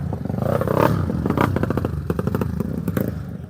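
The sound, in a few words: off-road motorcycle engine revving, bike stuck on track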